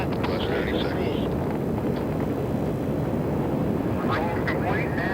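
Apollo 11 Saturn V rocket launch, a continuous broadband roar and rumble of the engines climbing through the sky, steady and loud for several seconds with faint crackle on top.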